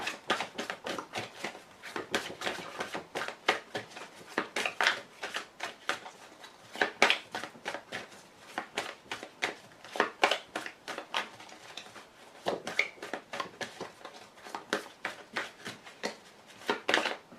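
Playing cards being cut, shuffled and dealt in quick, dense flurries of soft slaps and riffles that continue steadily, close and moderately loud, with no talking.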